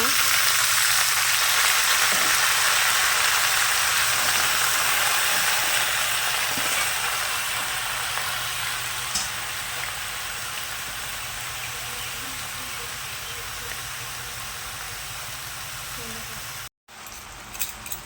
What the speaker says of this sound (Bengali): আমি একটু ভালো করে সবজিগুলো নাড়বো ভালো করে ভাজবো একটু